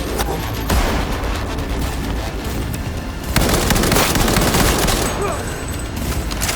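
Sustained Cyberpunk 2077 gunfire fills the scene, loud close bursts rattling continuously with brief swells, with a voice heard faintly under the shooting.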